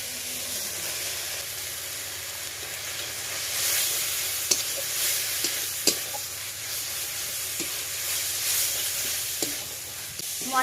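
Masala with salt and turmeric sizzles steadily in a frying pan beside reddish-fried potatoes, with sharp scrapes and clicks of a spoon stirring now and then. It is close and continuous with no talking.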